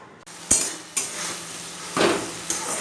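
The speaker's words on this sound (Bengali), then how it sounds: "ডাল দিয়ে এখানে সবজিটা রান্না করছি আজকে" Dal simmering with cauliflower and ridge gourd being stirred in a pot, with a few sharp utensil clinks and scrapes spaced about half a second apart, close by and moderately loud, with no talking.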